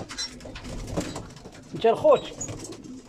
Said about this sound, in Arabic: كاين حمام كبير هنا وكاين الشنيبر اللي زايدين بكري